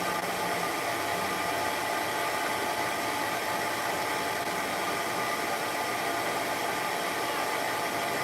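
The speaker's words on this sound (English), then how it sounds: "That's a do-it-yourself stand dryer." Do-it-yourself stand dryer blowing during grooming of a short-haired cat: a constant loud broadband whoosh of air, steady and unbroken, close, with no voices.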